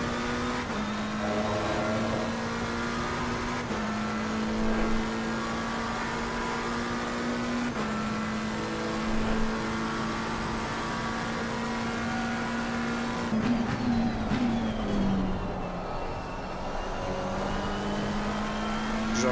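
Race car engines in a sim racing video game during a championship race drone steadily at high revs, the pitch stepping up and dipping with gear changes and braking, loud and continuous without speech.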